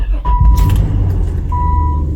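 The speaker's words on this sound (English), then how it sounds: "So let me get this car started." A car engine turns over and starts, its low steady rumble running throughout with a brief sustained whine appearing twice, recorded close from inside the vehicle.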